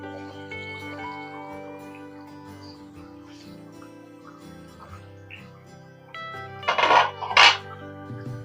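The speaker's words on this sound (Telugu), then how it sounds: "మూత వేస్తాను" A metal lid set on a cooking pot of egg and potato curry, with a faint clink and then two brighter metallic clatters near the end over quiet background ringing.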